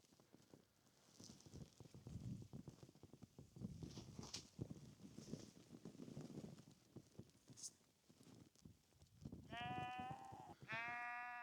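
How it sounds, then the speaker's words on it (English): Sheep bleat outside a tent on a morning campsite, a few loud nearby calls coming late, after a stretch of rustling, shuffling and thumping movement close by. "I've been woken up by the sound of sheep."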